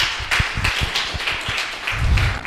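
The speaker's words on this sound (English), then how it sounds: "Let's applaud them, yeah." Audience applauding the jury at a datathon finals event, a steady patter of many hands clapping throughout, moderately close and fairly even, with a denser burst near the end.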